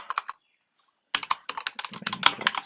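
Fingers type on a computer keyboard in two quick bursts of close, crisp key clicks separated by a brief pause.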